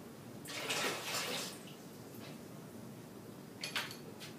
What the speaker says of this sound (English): pour out this no longer hot water